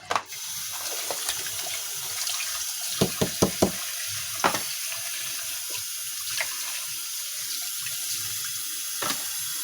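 Water runs steadily from a kitchen tap while fish is rinsed at the sink, a constant close hiss broken by several light knocks and clatters of handling.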